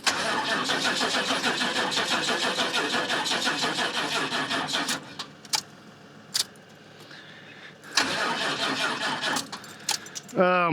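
A car engine in cold weather is cranked repeatedly and struggles to start, giving a loud, steady grinding whir that cuts off, then short tries follow with keys jangling and a voice speaking nearby.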